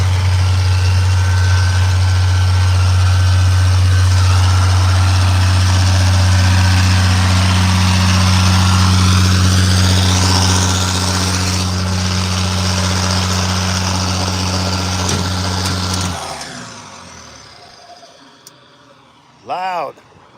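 A loud, steady straight-piped Gravely utility vehicle engine with no exhaust idles with a deep, rumbling low drone for most of the clip, then cuts off abruptly, leaving near silence and a brief faint noise.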